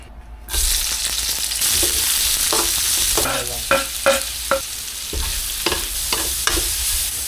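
Onion and garlic sautéing in hot oil for pork binagoongan, a loud close sizzle with repeated stirring scrapes and spatula clinks in an irregular rhythm, no talking.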